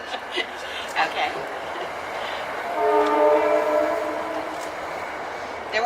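A train passes near the Lincoln Depot Museum in Peekskill, New York, during an outdoor reenactment. Its horn sounds as a sustained multi-tone blast in the middle, over steady rail rumble and faint background voices.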